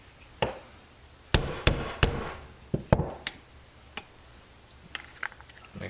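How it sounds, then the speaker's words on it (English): Several sharp metallic hammer strikes at irregular intervals, close by, driving a pin into a Mazda 626 door handle, with quieter taps in between against a quiet background. "You hammer that pin back into place"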